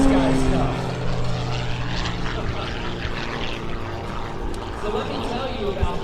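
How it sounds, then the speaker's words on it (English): A high-performance aerobatic biplane's propeller engine roars steadily at an airshow, loud and continuous throughout, with a commentator talking over it. "We're looking at the most high-performance aerobatic biplane in the world."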